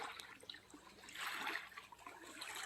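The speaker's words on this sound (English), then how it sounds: "Those waves are just from the boat that went by." Lake Superior waves from a passing boat wash and lap gently at the shore, with a soft close splashing that swells briefly in the middle, faint and with no voices.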